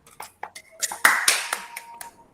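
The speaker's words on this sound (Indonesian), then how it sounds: "Tepuk tangan untuk kelompok Elvira dan Abraham" A few students in a classroom give scattered, uneven claps, sparse and close by, fading out within a couple of seconds rather than building into full applause.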